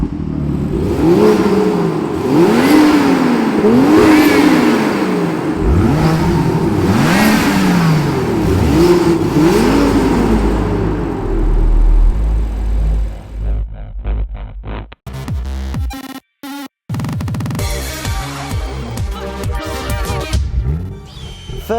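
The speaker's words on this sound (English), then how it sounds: "this is what the M2 sounds like" A BMW M2 engine revs repeatedly in rising and falling sweeps, loud and close, then settles into rougher idling and short blips with brief abrupt gaps in the sound.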